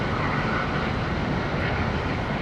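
A CRJ 701 regional jet takes off at Charlotte airport, producing a loud, steady engine roar that fills the whole stretch without any speech.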